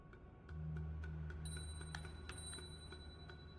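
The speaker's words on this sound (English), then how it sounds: "Oh, the bell." A bell rings in the video game Nine Sols, heard as bright, sustained tones over a low droning soundscape, with several short, quiet chime-like strikes scattered throughout.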